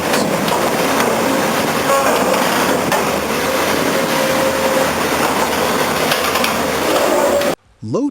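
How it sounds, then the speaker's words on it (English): A ballast cleaner machine processing track stone, feeding it through a vibrating screening section, gives a loud, continuous industrial roar with clattering rock that runs steadily and then cuts off abruptly near the end. "The machine feeds mixed track stone into a vibrating screening section"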